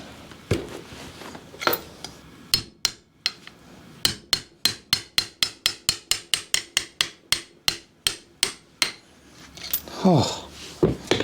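Metal tools work on motorcycle engine lifter blocks in a rapid, regular series of sharp metallic knocks and taps, close and loud, with scattered clanks before and after the run.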